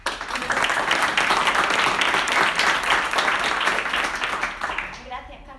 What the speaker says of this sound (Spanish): Así que nos recibimos con un fuerte aplauso.